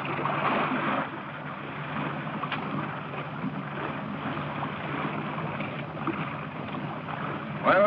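A salvage boat moves steadily through water, with a continuous churning wash and engine rumble throughout and no voices.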